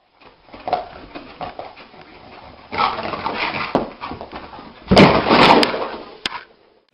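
A dog pants and whimpers excitedly in short bursts, close and fairly loud, with a couple of sharp knocks near the end.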